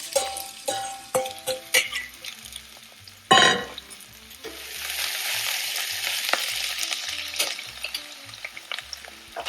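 Onions and garlic fry in a pan, a bright sizzle with a loud clatter as food hits the hot surface, then a steady hiss with occasional stirring clicks close by.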